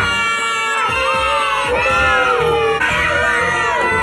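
A three-year-old boy screams in a prolonged tantrum at home, loud, shrill wails rising and falling in several long bursts with brief catches of breath between them.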